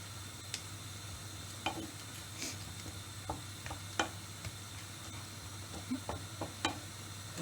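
Cajun-seasoned prawns fry in a pan with a steady low sizzle, broken by scattered small pops and ticks, quiet and close, with no voices.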